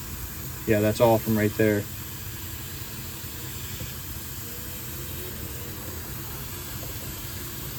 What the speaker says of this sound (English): that's also where you hear that hissing coming from.